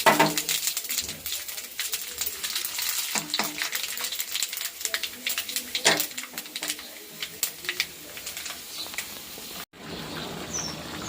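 Panch phoron spices hitting hot oil alongside dried red chillies and bay leaves in a home kitchen pan, giving a loud, close, steady crackling sizzle with sharp pops, cut briefly near the end.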